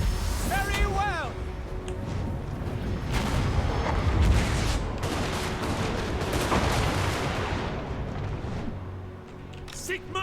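Cannon and artillery fire in a Total War: Warhammer battle, a dense, continuous barrage of booms and gunfire rumbling loudly throughout, with voices heard over the din.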